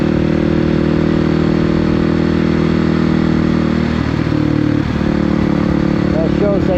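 A motorcycle engine drones steadily and loudly while being ridden, with a slight shift in pitch near the end, and a voice is heard over it.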